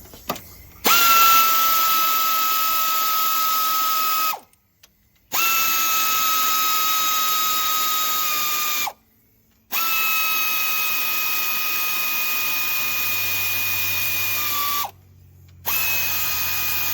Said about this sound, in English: Low speed, low torque ratchet.